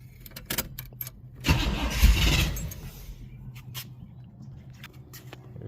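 A 1971 Chevrolet Monte Carlo engine, revived after 35 years, cranks and catches with a loud roar lasting about two seconds, then falls back toward a quieter idle amid scattered clicks and faint birdsong.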